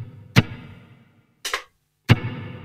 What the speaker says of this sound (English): So this is the short reverb.